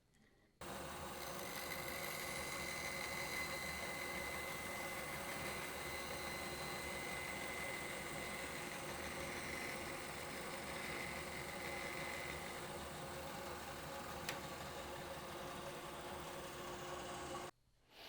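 A saw blade makes a test cut in wood, heard as a steady mechanical hum that holds evenly for about seventeen seconds and then stops abruptly, with no voices.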